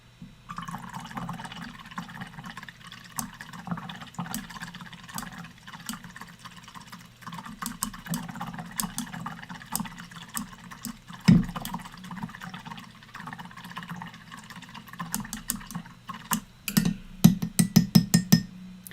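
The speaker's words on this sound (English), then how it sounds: "a full 15 seconds of nothing but brush cleaning water noises" Gentle sloshing and swishing of a paintbrush in cleaning water with small clinks against glass, steady for most of the time, then a few sharper taps near the end.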